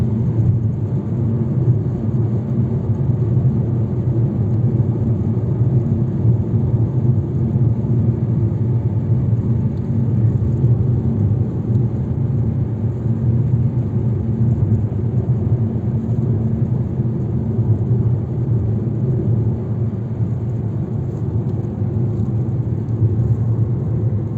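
A Fiat Egea Cross 1.4 climbs a winding mountain road uphill toward Palandöken, heard from inside as a continuous low engine and road rumble that holds steady throughout with no talk.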